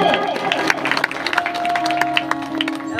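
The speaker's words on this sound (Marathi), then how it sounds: "एकदा माझ्या पार्टीसाठी जोरदार टाळ्या होऊन जाऊ द्या" Scattered, fairly close hand claps from an audience ring out for a qawwali group at a Bhim Jayanti 2024 program, layered over sustained musical tones and a murmuring crowd.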